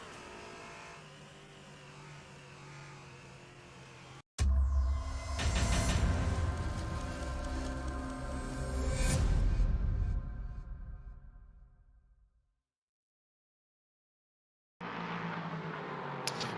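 An LMP3 race car on a sim lap of Road America snarls loudly as it accelerates, the engine note climbing and then fading into a sudden silence before the roar resumes at the end.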